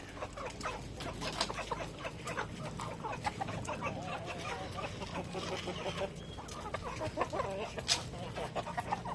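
Native chickens, a rooster among them, cluck and chatter continuously while being fed cracked corn outdoors, a busy flock sound heard up close.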